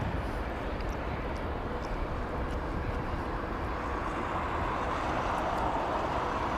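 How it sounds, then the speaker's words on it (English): A Boeing 787 Dreamliner airliner at London Heathrow gives a steady, broad engine roar that swells slightly toward the end, with no voices over it. "That's a Dreamliner"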